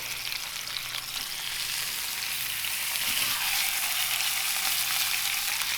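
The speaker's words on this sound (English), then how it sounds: "Oh yeah, listen to that sizzle." Steady, continuous sizzling of food searing in hot olive oil, a bright crackling hiss that holds evenly throughout with no talking.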